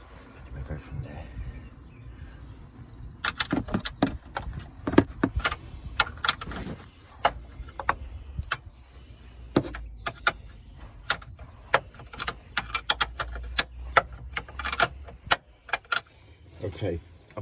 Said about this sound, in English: I'm just going to whiz these bolts off